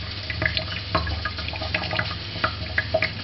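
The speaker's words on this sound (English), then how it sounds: "and as you can see the water is just trickling out of it" Waste water from the outlet of a reflux still with an 800 mm column trickles and drips steadily, up close, with scattered splashy drops and a low hum beneath.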